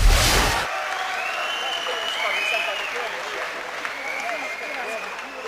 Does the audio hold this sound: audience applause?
yes